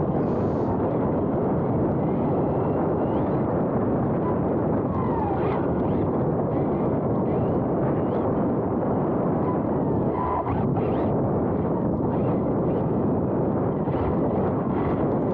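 A 6S Arrma Limitless RC car races on an on-road practice track with the camera mounted onboard, producing a loud, constant roar of wind buffeting and motor drive that stays steady and unbroken throughout.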